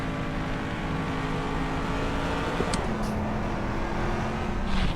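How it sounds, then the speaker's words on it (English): Racing-game car acceleration with ambisonic ambience built in Fmod: a continuous engine-like hum with a faint pitch shift holds steady at moderate level, with a couple of brief high clicks and no voices. "creating an immersive ambience as the car accelerates"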